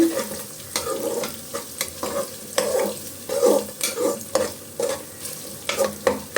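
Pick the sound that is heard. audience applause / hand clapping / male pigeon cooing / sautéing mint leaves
sautéing mint leaves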